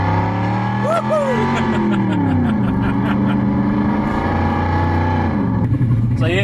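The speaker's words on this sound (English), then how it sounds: "it makes you want to take your nice, respectable family car and thrash the guts out of it because you just want to hear those revs" A SoundRacer V8 sound simulator plays through a family car, giving a deep, continuous engine rumble that rises and falls in pitch as the revs climb and drop.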